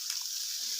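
Broccoli, carrots and other cap cay vegetables sizzle and hiss in a hot wok as they are stirred, a close, continuous frying noise with no voice over it.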